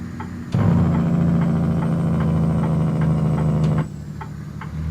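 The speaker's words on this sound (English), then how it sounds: "the loud noise that you hear is associated with the exhaust, the compression of the exhaust" A heavy-haul truck in American Truck Simulator with a WS 49x power hood roars with loud exhaust compression braking, a sustained low droning rumble that starts abruptly and cuts off after about three seconds, leaving a quieter engine idle.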